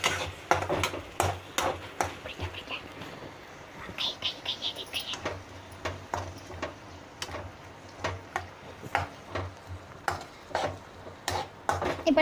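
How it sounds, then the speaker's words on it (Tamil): Repeated scraping and clattering of a utensil stirring vegetables frying in a pan, with a soft sizzle underneath, steady and close. "இப்போ எல்லாத்தையும் போட்டு நல்லா கலந்துக்கலாம்"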